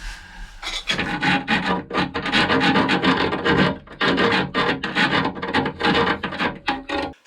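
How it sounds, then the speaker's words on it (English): Coarse rasping strokes of a rough rasp filing metal on a 12V diesel water heater scrape steadily and loudly, one after another in a fast back-and-forth rhythm, with brief pauses between bursts. "I've got a couple of rasps here which I'm going to use."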